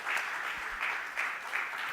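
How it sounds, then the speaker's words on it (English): Audience applause at a supply-chain symposium, a steady mid-level wash of clapping that swells in gentle waves over two seconds with no talk on top. "very big round of applause to So Simran"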